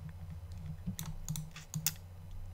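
Typing on a computer keyboard, a handful of distinct close key clicks spaced irregularly over a faint low room hum, with no talking.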